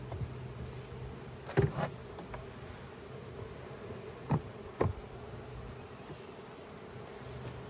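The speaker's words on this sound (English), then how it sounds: "Now they're fanning, so they're staying." Honey bee swarm at a hive, a steady close buzzing drone of many bees fanning, with a few sharp knocks and rustles breaking through.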